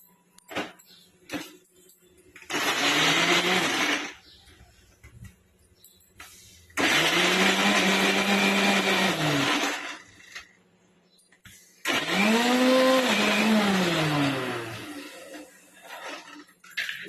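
Mixer grinder blending chutney of ivy gourd ingredients with curd and tamarind, three loud whirring bursts of a few seconds each, separated by short pauses, the motor pitch rising and falling as each run starts and stops.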